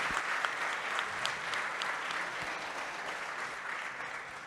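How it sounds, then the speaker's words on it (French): Audience applause at a French association gathering, a steady dense clapping from a crowd in a hall that carries on evenly throughout, with no one speaking over it. "Effectivement, Hélène mérite vos applaudissements."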